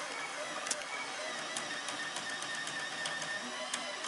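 Alfawise Delta 3D printer at work, a steady whirring motor hum with faint clicks and ticks scattered throughout, continuous and moderately quiet at close range.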